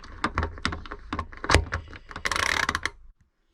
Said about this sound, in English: I'm just gonna use my ratchet